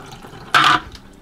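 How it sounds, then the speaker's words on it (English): Sanitizer water splashes from a bucket down a kitchen sink in one brief, loud gush lasting about a quarter second, then quiet dripping. "I'm just swishing the bucket around to make sure all parts of it get touched by the sanitizer, and then it can just go down the sink."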